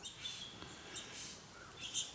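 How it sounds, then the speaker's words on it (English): A male satin bowerbird in botanical gardens gives faint, sparse chirps and short calls against quiet outdoor background hiss, a few brief notes spread across the moment. "and I'm watching a male Satin Bower Bird"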